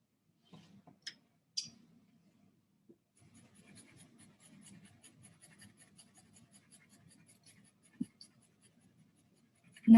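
An HB graphite pencil scratches across paper in short, uneven strokes, soft and close, with a few sharper taps between the quiet shading passages.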